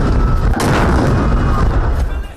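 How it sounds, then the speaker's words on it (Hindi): A ceremonial cannon salute is fired by soldiers at a Defence Day event in a Peshawar stadium, a loud, sustained booming roar with a sharp second blast partway through, heavy and close. "जवानों ने तोपों की सलामी दी।"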